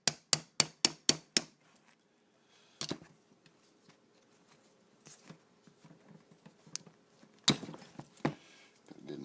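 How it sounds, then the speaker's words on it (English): A hammer drives out the extractor pin of a Winchester 1892 rifle: a quick run of six sharp metallic taps, then scattered lighter knocks and small handling clicks, close, followed by another cluster of strikes. "Drive that pin out, and then you got to drive out the extractor pin."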